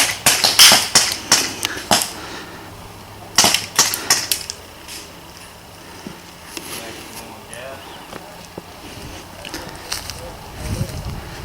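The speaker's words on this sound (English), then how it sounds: "A lot of gunfire going on." Airsoft guns fire at an outdoor field in sharp clustered bursts of snappy clicks and pops, loud and close at first, then sparser and more distant, with faint voices in the background.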